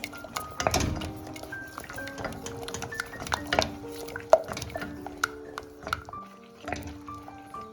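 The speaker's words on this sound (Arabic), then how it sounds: "نبقى مستمره البنات في التحريك" A spoon stirs caramel and 200 grams of melting chocolate in a pot with a steady, close scraping and clinking against the metal, with light soft knocks throughout and no voice.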